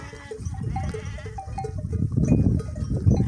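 A flock of sheep and lambs on thin meadow pasture bleat over one another, repeated wavering calls rising and overlapping, fairly near and loud, with no talk.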